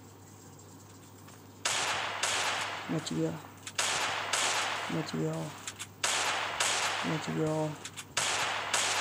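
Bursts of gunfire from guns in the Free Fire video game, several short volleys separated by pauses over a steady low hum, with a voice speaking briefly between shots.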